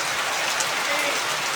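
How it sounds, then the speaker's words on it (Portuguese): Heavy rain pours steadily in the town of Itatira, a dense, loud, unbroken hiss of drops striking surfaces close by with no voices over it. "Mais um registro de chuva. Agora, muita chuva, olha aí."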